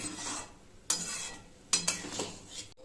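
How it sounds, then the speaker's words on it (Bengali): Boiled dal is stirred into cooked masala in a pan: a spoon scrapes and clinks against the metal in a few distinct strokes over a faint sizzle, fairly quiet and close. "এবার ডালটা দিয়ে ভালোভাবে এইভাবে মিশিয়ে দেব একটু।"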